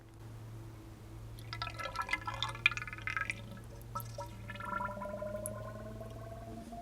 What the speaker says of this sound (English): I just need to pour in this oil.